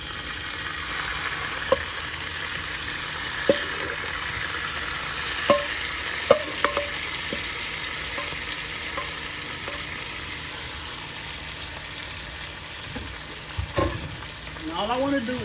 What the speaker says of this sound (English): I am about to add the kale to the skillet,